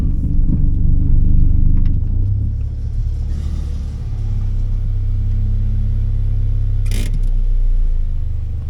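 A Honda car with a K20 engine and a new fuel rail drives along the road, giving a loud, steady low rumble that swells slightly as it accelerates, with road and cabin noise throughout.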